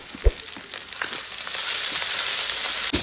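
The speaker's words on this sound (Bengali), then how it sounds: "এরপর এইটা আমি মশলা দিয়ে ছকে নেবো।" Boiled snails and vegetables fried with chilli powder and spices in a rural Indian kitchen, a steady close sizzle with a few sharp stir clatters near the start and again near the end.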